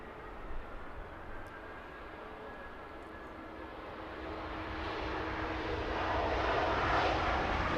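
Croatia Airlines Airbus A320-200 airliner arriving from Split to land at Heathrow, a steady broad engine roar that swells louder toward the end as it draws nearer, with no talk.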